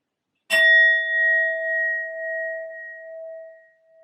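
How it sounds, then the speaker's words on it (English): A single strike on a sound bowl rings out with a bright metallic attack, then a pure, steady tone that slowly fades over several seconds in a quiet room, with no voices. "I will be using my sound bowl to clear and set the energy"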